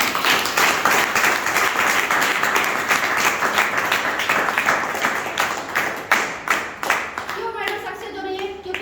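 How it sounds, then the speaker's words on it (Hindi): An audience at an achievement-sharing gathering claps loudly and steadily for a woman being honoured, the applause thinning into a few scattered claps before a voice begins speaking at the end. "मैडम के लिए जोरदार ताली"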